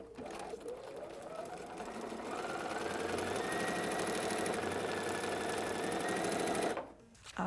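A sewing machine runs in one steady, continuous burst stitching foundation paper-pieced quilt fabric, close and fairly loud, stopping abruptly near the end.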